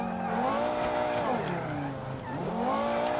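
A car in Automation drives at high speed with a loud revving engine that shifts in pitch as it accelerates and lifts, alongside tire squeal, all close and continuous for a few seconds.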